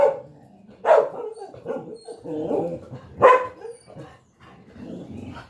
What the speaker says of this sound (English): we have little dogs there.